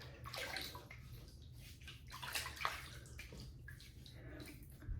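Water splashing as a face is wetted before a shave with a DE Karve razor, a close rushing, sloshing wash that swells and fades in uneven waves, with no talking.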